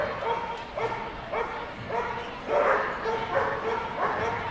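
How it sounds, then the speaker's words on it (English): A Labrador retriever barks repeatedly at a national agility championship, a string of close, rhythmic barks and yips over crowd noise and commentary. "I can tell it's a lab from the barking."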